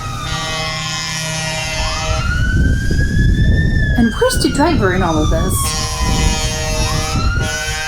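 British fire engine sirens wail loudly with rising and falling tones, a couple of them overlapping and approaching, while a person speaks over them.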